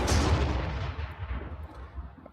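A loud booming gunshot blast in the Warhammer Armageddon video game, a single heavy deep report that decays over about two seconds, with no voices.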